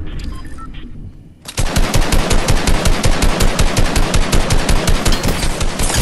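Rapid machine-gun fire in a shooting video game, a dense rattling stream of evenly spaced shots that starts abruptly after a quieter lead-in and stays loud and continuous.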